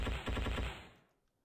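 Rapid automatic gunfire in the video game Endless War 3, a loud rattling burst of shots lasting about a second before fading into silence.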